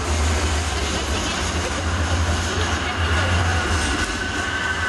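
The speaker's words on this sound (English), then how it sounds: "That's the train we were supposed to take." A MAX light rail train passes nearby, giving a continuous low rumble with rolling wheel noise that holds steady throughout, with no clear talk over it.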